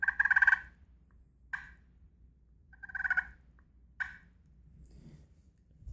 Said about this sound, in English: if you're brand new to using a pot call, and the only thing you can do is this right here